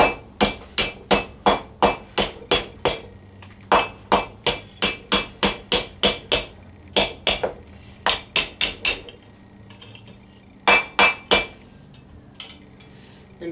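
Wooden hammer striking a metal Viking arm-band being forged, a quick, close, ringing series of blows in bursts with short pauses between, loud and alone.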